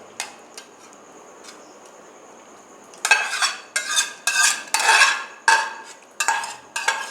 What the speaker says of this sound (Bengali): এবার চিকেনটা ঢেলে নিলাম।